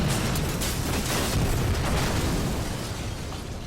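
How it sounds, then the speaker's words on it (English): A loud, sustained explosion blast rocking a spaceship, a rumbling roar with a dense low boom that holds steady for several seconds with no voices. "The blast rocked the ship, and down in the hangar the Gundarks ran to escape the explosion"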